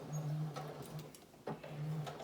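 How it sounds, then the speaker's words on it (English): A sewing machine makes a few short, soft stitching runs separated by pauses and clicks as it secures elastic on a pleated fabric face mask, heard alone and close. "And I want you just to sew 3 stitches, and then we can do a back stitch"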